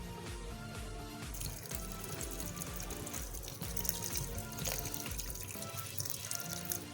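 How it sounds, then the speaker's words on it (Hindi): Cold water poured into a blender over mint and sugar for a mint lassi, a steady, fairly faint rushing pour running continuously for several seconds. "और इसके ऊपर हमने डाल देना थोड़ा सा ठंडा पानी"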